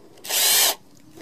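A power drill reverses a screw out of wood in one short, loud whir lasting about half a second, close up, with quiet room tone before and after.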